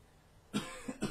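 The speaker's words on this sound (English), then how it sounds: "And there's the cough back from the last episode." Three short coughs in quick succession, close and fairly soft, with quiet room hiss before them.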